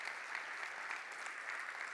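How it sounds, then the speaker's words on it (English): Live-event audience applauding Lewis, a continuous even patter of clapping from a crowd heard at a moderate distance, fairly quiet and steady throughout. "Can I just give Lewis a round of applause?"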